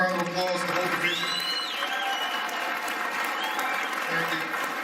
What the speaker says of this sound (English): Can we give them a big round of applause, the whole division?